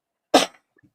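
One sharp, close sneeze from a person indoors: a single loud burst that fades within a fraction of a second, followed by near silence.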